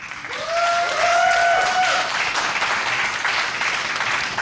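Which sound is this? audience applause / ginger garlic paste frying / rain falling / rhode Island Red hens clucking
audience applause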